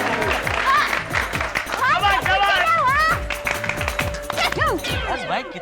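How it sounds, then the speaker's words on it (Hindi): Teachers and students clap together in steady rhythmic beats to celebrate A+ exam results in a Taarak Mehta Hindi comedy scene. The claps fill the room under a lively mix of voices and tonal sounds. "भाई कितने ताली बजाएगी।"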